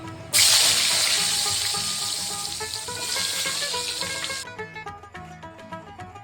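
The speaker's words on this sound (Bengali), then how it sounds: "আর আমি অল্প অল্প করে বেগুনগুলোকে ভেজে নেব" Eggplant slices seasoned with salt and turmeric hit hot oil in a pan, bursting into a loud close sizzle that gradually fades over several seconds into softer crackles and pops, with no voices.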